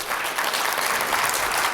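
Keynote audience applauding in a conference hall, a dense, steady wash of many hands clapping close and loud for the whole stretch, with no talk over it.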